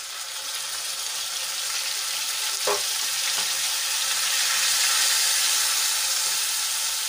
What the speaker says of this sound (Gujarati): ડુંગળીને આપણે સરસ રીતે સાંતળી લઈશું.